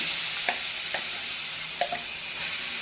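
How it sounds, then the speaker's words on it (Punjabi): Cumin and chilies fry in oil in a pan, giving a steady, bright sizzle with a few soft stirring clicks scattered through it. "ਜੀਰਾ ਵੀ ਬਰਾਉਨ ਹੋ ਗਿਆ ਇਹਦੇ ਵਿੱਚ ਮਿਰਚਾਂ ਪਾ ਲੈਂਦੇ ਆ"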